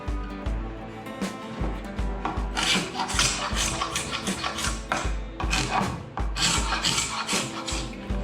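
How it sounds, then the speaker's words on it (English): Repeated rasping scrapes of a blade dragged across pallet wood to remove glue, in rhythmic strokes, close and fairly loud, with low knocks between passes. "I am going to clamp these to the bench, scrape some of the glue off."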